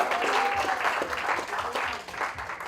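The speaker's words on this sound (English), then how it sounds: "Let's have a round of applause." A college festival audience at NM College's Umang festival applauds with steady, dense clapping throughout, loud and sustained, tapering slightly near the end.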